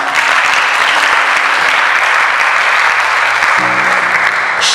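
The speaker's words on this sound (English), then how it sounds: "Please can you clap?" Audience applause at a school speech event, steady dense clapping from a crowd sustained throughout at full loudness with no talk over it.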